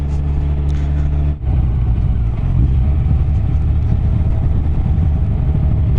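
A Yamaha FJR motorcycle with Delkevic tri-oval mufflers runs close by, a loud, steady exhaust rumble with a brief dip before the engine note settles back into a continuous drone.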